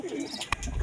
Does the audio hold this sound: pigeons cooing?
yes